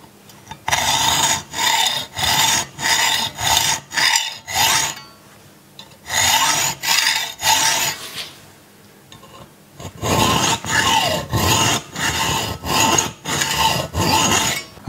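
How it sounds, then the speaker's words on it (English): A hacksaw cutting metal by hand in a workshop: three runs of fast, even, rasping back-and-forth strokes separated by short pauses, loud and close with no voices. "I'm going to remove some material right in here with a hacksaw"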